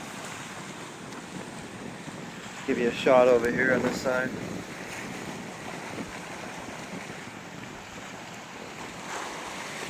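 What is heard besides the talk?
stormy waves bashing against rocks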